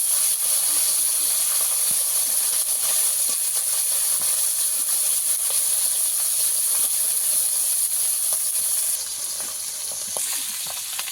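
Small pond fish, mola and puti, are slid into well-heated oil and sizzle loudly and steadily, a dense broadband hiss that continues throughout with slight crackling variations, faint talk beneath it.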